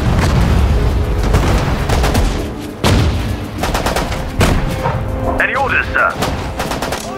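Gunfire in Sudden Strike 4 during the El Alamein desert battle: heavy rattling bursts and booms in rapid volleys, loud and continuous, with a brief spoken line partway through.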